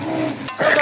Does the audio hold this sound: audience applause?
no